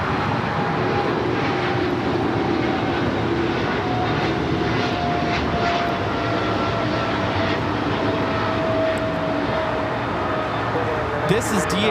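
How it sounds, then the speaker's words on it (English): A Polar Air Cargo Boeing 777 freighter, flying for DHL, takes off from LAX with a sustained heavy engine roar that stays loud and broad throughout. "This is DHL, operated by Polar Air Cargo 992, taking off to Cincinnati on the 777 freighter"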